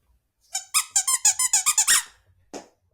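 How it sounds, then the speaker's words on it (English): A rubber rat toy is squeezed in a quick run of about ten sharp, high squeaks in close succession, then one last squeak after a short pause, close and loud. "go ahead, squeak the rat"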